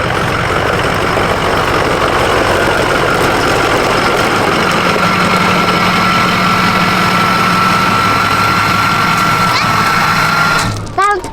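A diesel pickup truck engine idles loudly and close by with a steady, rumbling clatter that runs unbroken for about eleven seconds before a brief clunk at the end.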